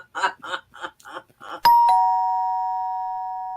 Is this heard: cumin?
no